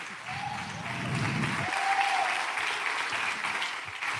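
Church congregation applauding during an evangelistic service, a fairly quiet, steady patter of clapping, with brief vocal sounds near the start over the applause.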